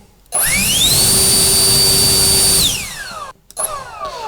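A cheap Chinese turbo blower fan switched on at its lowest speed spins up with a rising whine, holds a loud steady high-pitched roar, then winds down, followed by a brief restart.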